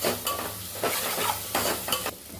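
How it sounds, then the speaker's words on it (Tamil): Vegetables sauté in a pan with a close, crackly sizzle, broken up by rhythmic stirring scrapes of a utensil against the metal, about four strokes over the short stretch. "இதை நல்லா வதக்கலாம்."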